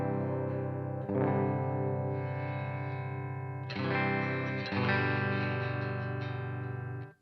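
A Fender Susan Tedeschi Telecaster plays with its tone knob set normally. Sustained distorted chords ring out, re-struck a few times with a chorus-like shimmer, loud and close, then cut off at the end.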